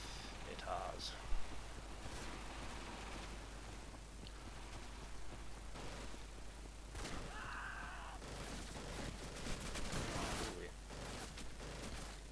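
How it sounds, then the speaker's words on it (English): Machine gun fire in the World War II shooter Darkest Hour, set on Omaha Beach: distant, faint bursts of automatic gunfire mixed with explosions under a constant battle rumble. "the MGs are just tearing people apart"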